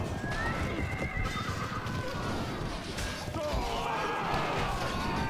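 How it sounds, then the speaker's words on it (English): Horses neigh and whinny amid clattering hooves and clashing noise in a busy Medieval II Total War Kingdoms battle, a dense, continuous din with no clear talk over it. "See, because horses are dying"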